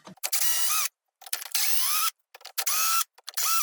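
A cordless screwdriver backs a screw out of a drainage pump during servicing, sounding in four short whirring bursts with brief pauses between them, close and fairly loud.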